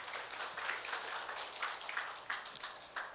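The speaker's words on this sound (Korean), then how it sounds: "발표에 수고해 주실 조철민 박사님께 큰 박수 부탁드리겠습니다" A policy forum audience in a hall claps to welcome a speaker, a soft, dense wash of many hands heard from a distance, fairly faint throughout.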